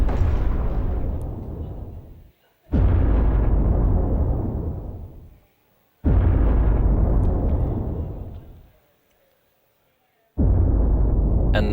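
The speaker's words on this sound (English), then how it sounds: "explosion sounds" Four loud, deep explosions go off one after another, each booming and rumbling before fading out, separated by brief silences.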